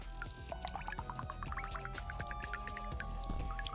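Water dripping and trickling from an electric radiator in a video game, a steady run of small plinking drops over a continuous liquid wash and faint background music.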